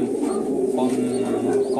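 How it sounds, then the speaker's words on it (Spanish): Soft, steady cooing of a male pigeon in a Cuban pigeon loft, a continuous low throaty coo close by, with a faint murmur of voices in the background. "Le he echado también este palomo, que es hijo de Milagrito"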